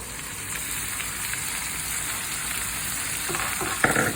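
Bok choy greens cooking over beef short ribs with dried chilies in a pot give a steady, close sizzle and fry hiss throughout, with a few louder crackles and stirring knocks near the end.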